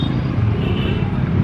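Dense road traffic on a busy city street gives a steady, close, low rumble of cars and other vehicles, with no clear breaks across the short stretch.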